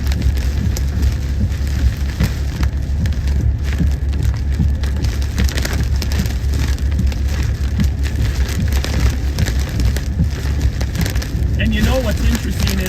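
Heavy rain pours down during a storm, a loud, dense and constant hiss of drops hitting surfaces close by, with a voice speaking faintly beneath the downpour near the end.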